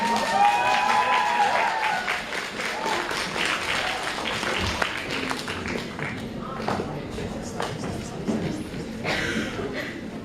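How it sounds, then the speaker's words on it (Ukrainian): Dense applause from a school audience for a student agitation troupe performance at a technical lyceum in Vinnytsia, Ukraine, steady claps across the whole stretch with some crowd noise mixed in. "Зустрічаємо оплесками."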